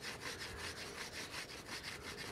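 Outdoors, a sharp knife carves wood shavings with a draw stroke: quick, even, faint scraping strokes repeat close by, with no talking.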